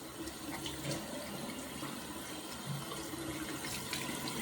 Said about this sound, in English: Now I'm going to rinse real quick.